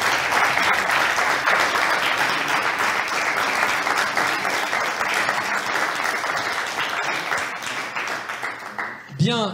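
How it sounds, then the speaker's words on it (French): Sustained, dense applause from an indoor audience at a theatre-style event, loud and steady for several seconds before tapering, with a voice rising briefly at the very end. "On peut les applaudir très fort."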